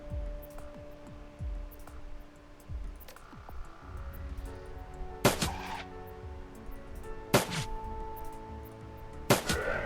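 Gunfire in the video game Shadowrun Dragonfall: scattered shots and impacts amid game ambience, with three sharp loud bursts later on, spaced a couple of seconds apart.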